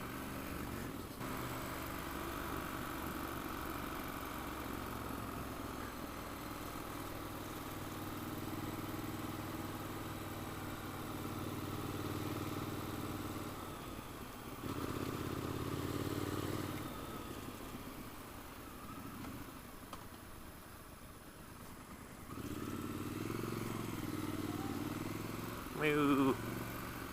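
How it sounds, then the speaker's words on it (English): Triumph Scrambler 1200 motorcycle engine running on a single-track road, a low steady drone that rises in a few brief bursts of throttle, heard under someone talking. "I do like this engine better than the 900."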